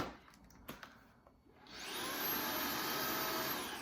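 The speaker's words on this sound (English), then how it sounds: "I use this mattress cleaner with the vacuum cleaner, and I clean the mattress" A few handling clicks and taps, then a vacuum cleaner fitted with a mattress-cleaning attachment whirs up to a steady, loud, continuous drone that holds to the end.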